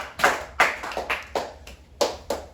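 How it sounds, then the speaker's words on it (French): A church congregation claps in a French-language service, the applause coming in about seven uneven bursts that rise sharply and fade over a couple of seconds, fairly close and free of speech. "Acclamons la parole de Dieu."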